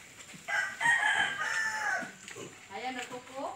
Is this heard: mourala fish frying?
no